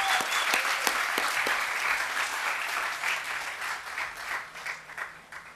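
Graduation audience at HLSCC South Community College's class of 2013 ceremony applauds steadily, a dense wash of many hands clapping at even loudness throughout, easing slightly toward the end.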